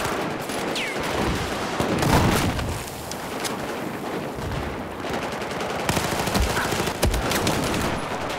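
Automatic MX4 rifle fire in a first-person shooter, a steady run of rapid gunshots with scattered heavier bursts, loud and close throughout.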